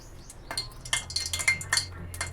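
A metal kadai is set down and handled on the stove to start a home-cooked curry, giving several short clinks and clatters of metal and utensils at close range with no voices.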